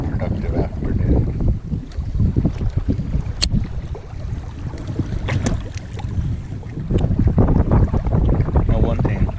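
Strong wind gusts roar across a lake around a bass fishing boat, buffeting the microphone in loud surging waves with occasional water slaps against the hull.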